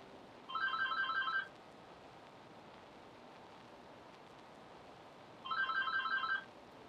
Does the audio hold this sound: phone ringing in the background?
yes